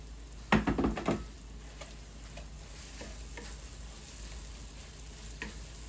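Apples cook in a pan with butter and brown sugar, stirred with a few sharp knocks and scrapes near the start, then a quiet, steady sizzle of the caramelising fruit carries on alone.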